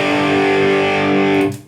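Electric guitar on the crunch channel with reverb switched in through a TM-6 looper switcher: a sustained, distorted chord rings loud and alone, then is cut off and its reverb tail fades at the end.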